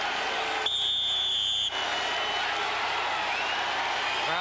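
A football stadium crowd at Texas A&M at Hawaii in 1990 roars continuously and loudly to rally the defense, with a brief horn-like tone in the middle.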